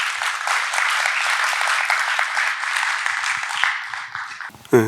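A crowd at a book event applauds to welcome speaker Gurtej Singh, a dense sustained wash of clapping that holds steady for about four seconds, then thins and fades out as a voice begins.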